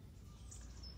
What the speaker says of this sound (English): Yes, you can hear the birds.